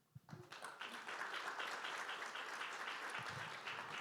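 An audience at a panel event on the ethics of digital public infrastructure breaks into applause, a dense, even wash of clapping that swells within the first second and holds steady to the end.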